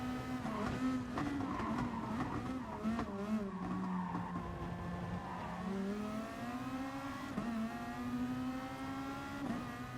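Race cars lap the Red Bull Ring in Gran Turismo Sport, with a loud, sustained engine drone whose pitch rises and falls through shifts and corners, plus occasional tire squeal, one car close up throughout.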